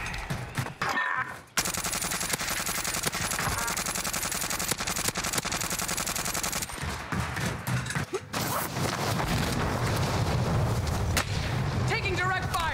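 Dense gunfire from Call of Duty Warzone (Cold War era, Krig 6 rifle) rattles almost continuously: rapid automatic bursts, loud and close, with brief dropouts and game voice cues mixed in.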